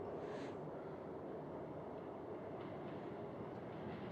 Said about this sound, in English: That's a real subway car.